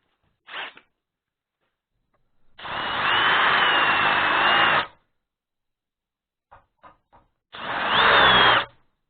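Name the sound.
chamfering a damaged bolt hole in metal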